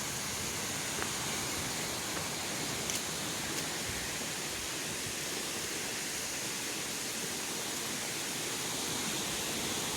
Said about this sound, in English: maybe this is that waterfall